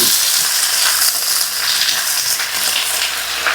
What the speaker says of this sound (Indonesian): Tumis bawang putih aja.